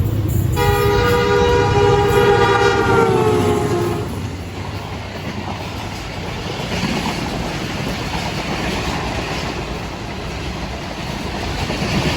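A train speeds through Jungshahi railway station with a loud horn blast at the start, followed by the steady rushing roar and rattle of carriages passing close by.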